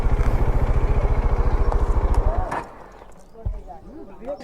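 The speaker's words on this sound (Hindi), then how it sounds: "तो देखते हैं बाइक ऊपर कहाँ तक जाएगी।" Motorcycle engine pulling uphill on a road near the ancient Bateshwar temple complex in Morena, a steady pulsing throb that fades out midway, followed by faint outdoor sounds and brief chirps.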